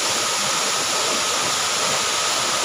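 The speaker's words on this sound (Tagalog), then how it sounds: "Ang ganda ng Inambakan Falls sa Hinatilan, Cebu." Inambakan Falls in Hinatilan, Cebu pours as a loud, constant broadband roar of rushing water, steady and close, with no other sound standing out.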